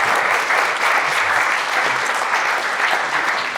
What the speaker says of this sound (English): would you please join me in giving a warm round of applause for our panelists